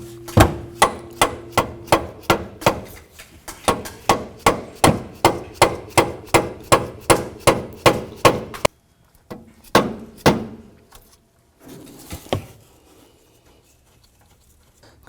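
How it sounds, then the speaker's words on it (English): Repeated hammer taps on an alternator being seated in a 2007-2014 Cadillac Escalade engine bay, a steady run of sharp metallic knocks for about nine seconds, then a few scattered, louder blows with pauses between. "Just tap that down."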